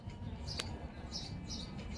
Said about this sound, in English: these are some loud ass birds